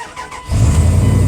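The engine of a 1998 Dodge Ram 1500 pickup cranks briefly and then catches, settling into a loud, steady low idle close to the microphone.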